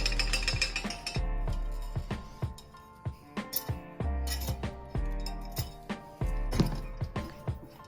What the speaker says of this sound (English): Straight up broken glass down here.